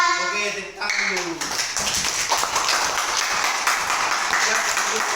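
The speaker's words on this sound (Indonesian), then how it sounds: "Oke, tepuk tangan dulu." A classroom of pupils claps hands together in a dense, steady burst of applause that fills most of the clip, right after a brief moment of voices.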